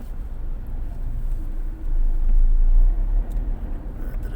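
A jeepney idling and rolling on a road while stopping to let passengers off, a low continuous engine rumble that swells briefly mid-way, with light traffic noise around and no talk.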